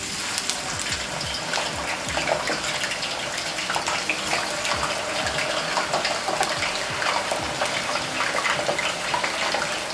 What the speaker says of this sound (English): just spread them out in the oil and allow it to fry